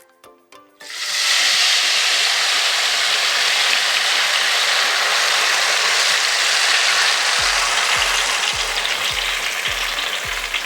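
Loud, steady sizzling of crispy batter crumbs (kremesan) frying in hot oil, starting with a few drips and then a sustained crackle, with faint rhythmic ticking later on.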